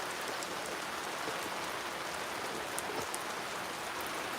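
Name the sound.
rain falling near an RV under an awning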